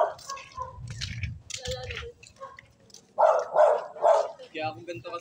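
A dog on a Filipino street lets out a few short, sharp barks and yips close by, mixed in with people chatting nearby.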